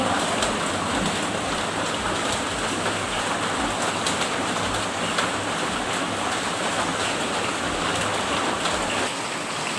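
Heavy rain pours down steadily outdoors in a dense, loud, unbroken hiss of drops landing on surfaces that carries through the whole stretch with no talking.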